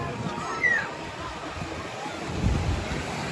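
Sea waves wash at the seaside in a soft, continuous surf, mixed with low wind rumble buffeting the microphone and no clear voices.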